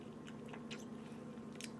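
Close-up crunching as crisp General Mills chocolate cereal is bitten and chewed, a few sharp crackly bites over a steady low hum.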